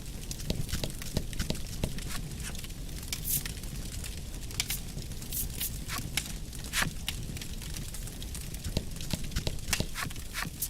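Horses in the card-based role-playing game Voice of Cards: The Isle Dragon Roars, fleeing a fire, rendered as continuous close hoof clip-clops with sharp knocks and rustling over a low rumbling bed.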